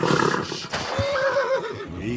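Horse at a horse farm in the video game Kingdom Come Deliverance 2 gives a loud, close whinny that rises and trembles for about a second, with soft hoof and movement sounds around it.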